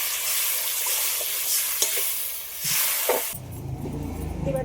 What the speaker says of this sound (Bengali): অল্প করে জল দিয়ে দিচ্ছি